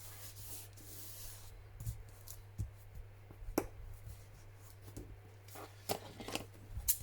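Scissors trim a collage sheet of paper for window tags: a quiet series of crisp, irregularly spaced snips with soft paper rustling between them.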